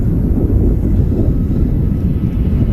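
An Embraer Legacy 450 business jet taxis at Manchester Airport, heard as a steady, low, rumbling engine roar in the background with wind buffeting the microphone.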